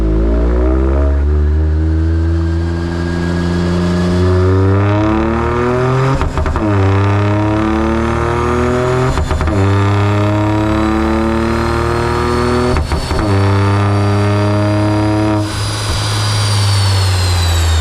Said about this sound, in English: The car's producing more power, smoother than before, and it also sounds better too.